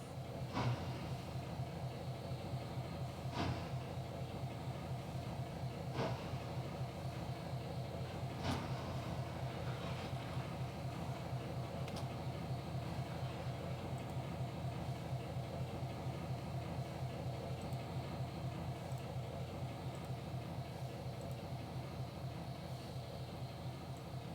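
Train locomotive in a railway operations simulation game, a steady low diesel-like engine drone with a fast rhythmic pulse running throughout, broken by a few sharp clicks, no talk.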